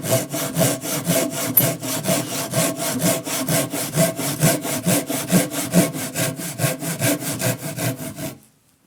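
A Japanese hand saw cuts a wooden tenon in fast, even pull strokes, a rhythmic rasp of roughly thirty close strokes at steady tempo before stopping abruptly.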